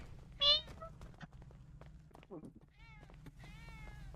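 A cat meows several times, one loud sharp cry near the start and softer drawn-out meows later, over a steady low background hum with brief child-like vocal sounds in between.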